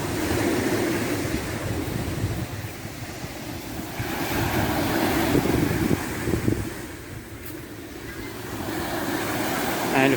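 Rough sea washing over a shingle beach below steep cliffs, a steady roar of surf with a broad, hissing wash and wind noise buffeting the microphone throughout.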